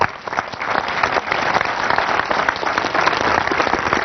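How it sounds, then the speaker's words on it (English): An audience applauds at a talk, dense sustained clapping from many hands filling the room, loud and continuous for about four seconds without any speech. "You parents know why you're applauding"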